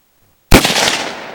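A single sharp gunshot cracks out loud and close after a moment of silence, then decays into a short rumbling tail.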